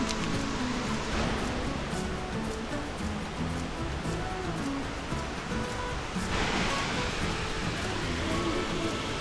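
Leiyin waterfall, a multi-tiered cascade on the Meishan Zhukengxi trail, pours in a steady, loud broadband rush of falling water that holds unbroken throughout, with faint voices now and then beneath it.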